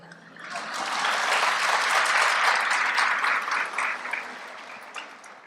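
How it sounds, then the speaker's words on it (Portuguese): An audience at a spiritual congress lecture breaks into applause that swells within a second, holds full and even, then thins and fades toward the end, with no talk over it. "Estamos aplaudindo Jesus neste exemplo de testemunho que ele nos traz"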